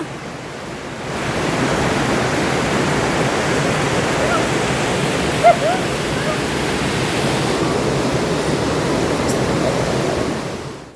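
Waterfall near Mount Kailash: a steady, broad roar of rushing water holds evenly from start to finish at close range, with no voices heard over it.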